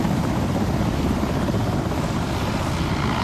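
Military helicopter flying over an Independence Day parade at a stadium in Kumasi, a steady loud broadband rotor and engine roar filling the scene with no talk.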